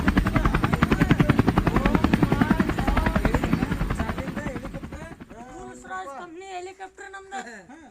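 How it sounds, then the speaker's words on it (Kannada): A helicopter flies loud and close, its rotor chopping in a steady rapid pulse for about five seconds before it fades away, leaving people talking. "ಹೆಲಿಕಾಪ್ಟರ್ ನಮ್ದು."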